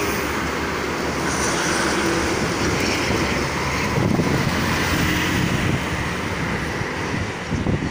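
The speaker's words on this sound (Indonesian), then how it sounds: "truk angkutan barang lumayan sangat banyak ya untuk sore kali ini." Steady roadway roar from heavy freight truck traffic on the Jakarta-Cikampek toll road in the late afternoon, a continuous loud wash of engines and tires with wind buffeting the microphone throughout.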